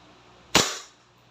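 A single sharp pop from a WE 2011 Hi-Capa T-Rex semi and full automatic airsoft pistol fired once during a chronograph test, a loud crack with a quick decay and no speech.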